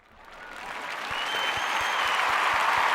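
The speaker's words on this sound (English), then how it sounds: "Let's give you a little round of applause for that." Applause swells from scattered clapping into a full, steady round from an audience, with no talking.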